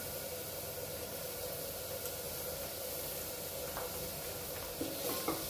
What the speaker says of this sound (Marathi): मसाला परतून घेऊ तेल सुटेपर्यंत।